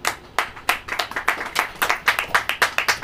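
An audience clapping at a church sermon in a rhythm of roughly eight sharp hand claps per second, crisp and close, with no voices over them.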